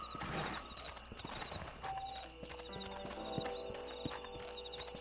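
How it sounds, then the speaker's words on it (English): Horse hooves clip-clop steadily in a video game, close and moderately loud amid layered game ambience and scattered effects, with no talk over them. "my horse is already right there"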